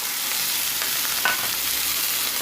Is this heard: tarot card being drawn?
no